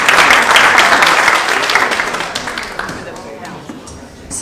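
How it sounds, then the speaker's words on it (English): Loud, close applause from a crowd at a chamber of commerce luncheon, a dense wash of clapping that swells at first and then slowly tapers off. "And if we could give them a round of applause."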